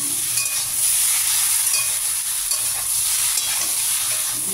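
Ridge gourd pieces, young and tender, go into a hot pan and fry with a steady, close sizzle and hiss, with some stirring scrapes, for a vegetarian vegetable dish.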